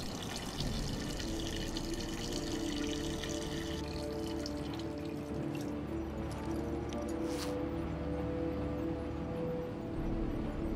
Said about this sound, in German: Und natürlich die Spülung drücken.